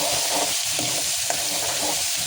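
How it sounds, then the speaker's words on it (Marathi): Spice paste (vatan) fries in hot oil for a Koli-style prawn curry, giving a steady close sizzle with soft scraping strokes from stirring repeating throughout. "तर इथे आपल्याला मसाला मस्त भाजून घ्यायचा आहे"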